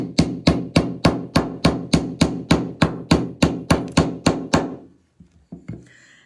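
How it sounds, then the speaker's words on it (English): A wire ornament hook is struck with a hammer in about fourteen sharp, evenly spaced blows, loud and close, followed by a few lighter taps and a brief pause. "we're going to hammer it"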